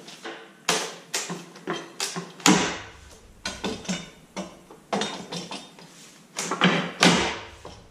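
A pallet buster pry bar working apart hardwood pallet boards, a series of sharp wooden knocks, creaks and cracks in irregular bursts, close and fairly loud.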